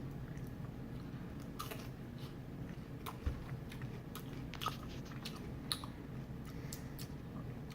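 Crispy breaded Arby's jalapeno poppers being bitten and chewed, with close, soft crunching and a few sharper bites over steady low background noise, no talking.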